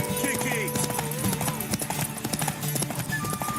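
Horse gallops hard through a race in The Witcher 3, its rapid drumming hoofbeats running throughout with occasional voices and game tones layered over them.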